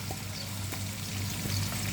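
Steady sizzling and crackling of onions frying in hot oil, close and continuous, with a low hum beneath.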